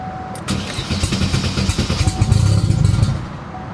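A built 4-cylinder car engine fitted with a cheap eBay turbo cranks and catches, settling into a loud, close, rough idle with uneven pulsing before fading.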